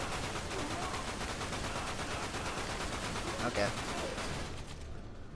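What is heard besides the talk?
machine gun fire in video game Dirge of Cerberus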